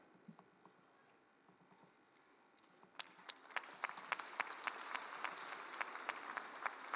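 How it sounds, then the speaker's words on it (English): Applause breaks out at a university graduation ceremony after a few seconds of quiet murmur, a crowd clapping steadily with scattered sharp individual claps, moderately loud. "A round of applause as she comes, gracefully."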